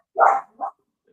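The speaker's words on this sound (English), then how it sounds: "Look, even the dog's getting upset about it." A dog gives one loud bark followed by a shorter, softer bark or whimper, close by, with no talking, and then silence.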